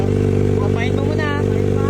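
A big bike motorcycle engine runs loud and close with a steady low throb, and people talk over it.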